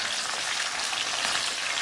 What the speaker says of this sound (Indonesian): kemudian ini mau kita goreng terlebih dahulu buncisnya